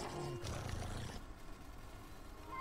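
Wolves attacking in a video game let out a loud, rough snarling roar that lasts about a second, then fade into a steady, noisy game ambience.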